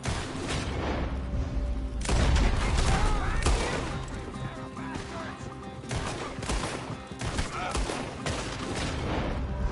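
Gunfire in Red Dead Redemption 2 during a shootout, loud bursts of rifle and pistol shots in rapid volleys, with voices shouting over the exchange.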